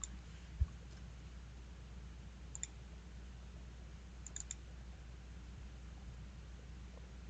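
A single mouse click in WinProp radio-planning software, quiet and isolated against a low steady hum, followed by a couple of even fainter clicks later on.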